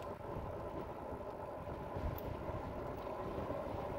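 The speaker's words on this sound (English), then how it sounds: "it's kind of breezy out here" Breeze blowing outdoors during an e-bike outing, heard as a steady low rumble of wind buffeting the microphone for the whole stretch, fairly constant with no speech.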